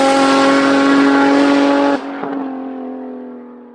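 An enthusiast car's engine roars steadily at high revs for two seconds, then lifts off and drops away to a fading, falling tone.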